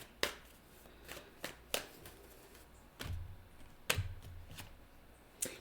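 Tarot cards being shuffled by hand, quiet riffles and soft slapping taps arriving in scattered bursts, close and faint with no talking.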